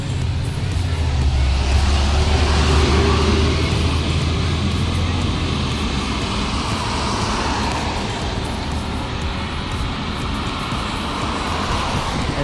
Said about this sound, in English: now we get the bus in front of the lens